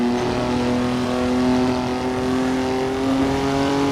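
A Formula 3 race car engine strains uphill on the Sudschleife in Assetto Corsa, a loud sustained tonal whine that climbs slowly through the revs without a break.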